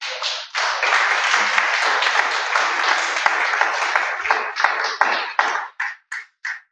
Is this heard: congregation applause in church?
yes